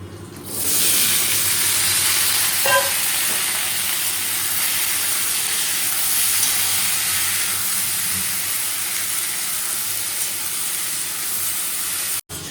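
Papad frying in hot oil gives a steady, loud, broadband sizzling hiss that holds for about twelve seconds before cutting off abruptly, with no voices over it.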